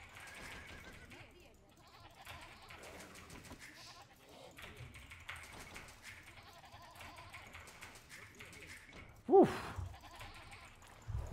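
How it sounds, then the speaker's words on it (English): Sheep bleating inside a strategy video game match on the Socotra map, a sharp cry near the end rising over a steady bed of game effects and clicking while people talk throughout. "Well, I saw a little sheep there."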